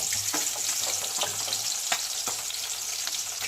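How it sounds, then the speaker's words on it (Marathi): Whole spices, cumin seeds and onion fry in hot oil for aloo matar pulao, giving a dense, continuous sizzle with a few soft stirring scrapes, close up and with no talking. "बघा खडा मसाला घालत आहे आणि कांदा,"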